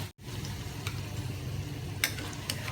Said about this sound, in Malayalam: എല്ലാ കട്ട്ലേറ്റും മറിച്ചിട്ട് ഇതുപോലെ തന്നെ ഒരുമാതിരി ഗോൾഡൻ ബ്രൗൺ ആവുന്നവരെ മൂപ്പിച്ചെടുക്കണം.